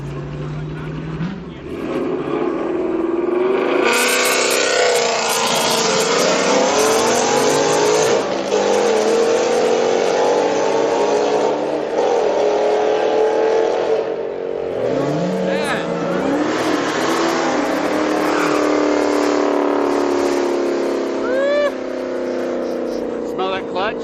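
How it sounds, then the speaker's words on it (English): A cammed Ford Mustang at a Friday night street car meet, its engine revving hard and loud with rising and falling sweeps, lopey and aggressive, while people talk nearby. "this No. Mustang is camming."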